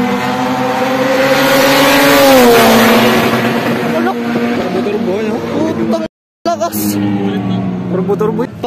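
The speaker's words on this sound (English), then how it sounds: "Lakas, turbo." A race car engine with a turbo, at a tuning day car meet, revs loudly and rises in pitch before dropping away, then cuts out briefly and returns with more revving while people talk over it.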